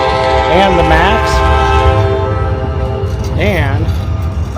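A train in Portland sounds its horn twice, two loud sustained blasts over a steady rumble of rolling rail cars.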